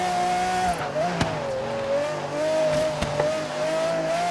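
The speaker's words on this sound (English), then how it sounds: "It sounds like a race car." A 2016 Aston Martin Vulcan race car engine in Forza Horizon 3 whines at a steady high pitch, rising and falling slightly through gear changes, with a couple of sharp clicks along the way.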